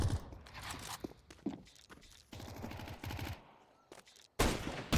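Sniper rifle shots ring out in a first-person gun video game, a few sharp cracks scattered among game noise, with someone talking in between.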